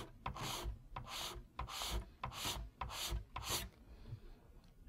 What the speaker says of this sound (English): with the grain direction, lightly scrape the excess off